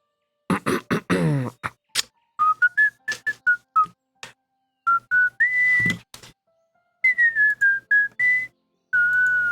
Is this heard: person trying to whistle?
yes